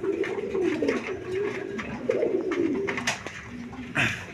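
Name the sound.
pair of coloured Golla pigeons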